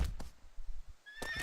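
A horse in the video game Shadow of the Colossus whinnies in two short bursts, then gives a longer, louder, high-pitched neigh near the end, with low hoof and game noise between.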